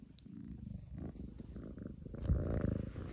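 A cat purring close up, a soft steady rumbling rhythm that grows slightly louder toward the end.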